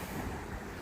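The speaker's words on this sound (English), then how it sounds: "Really windy." Steady, rough wind noise buffets the microphone at a high lookout over Bagnell Dam, Lake of the Ozarks, throughout this short moment, a constant low roar with no voices.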